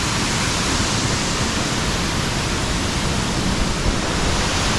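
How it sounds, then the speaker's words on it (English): Bang Pae Waterfall in Phuket, Thailand, a constant dense rush of falling water, loud and steady like broadband noise, unbroken for the whole stretch with no voices. "there it is. So, Bang Pae Waterfall"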